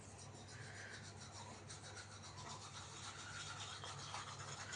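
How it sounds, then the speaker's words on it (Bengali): A child brushes their teeth with a toothbrush, giving a quiet, steady scrubbing hiss with a faint back-and-forth rhythm that runs unbroken and close by for the whole stretch. "ওকে দেখো ব্রাশ করতে।"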